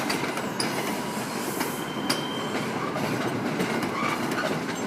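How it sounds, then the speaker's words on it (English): An inbound MBTA commuter train from the Fitchburg line rolls into North Station, its wheels clattering over rail joints with occasional squeals and a steady rumble close by. "we got a MBTA train inbound coming in"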